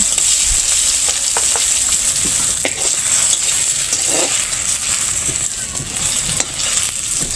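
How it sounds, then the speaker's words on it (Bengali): Eggplant slices fry in hot oil with a steady, loud, continuous sizzle, joined by occasional faint stirring scrapes. "এরপর আমি ধাপে ধাপে বেগুনগুলো ভেজে নিচ্ছি।"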